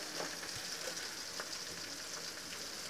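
Chhotkuli greens sizzle steadily in hot oil, a close, continuous hiss and crackle with a soft spatter that holds at an even level throughout, with no talking.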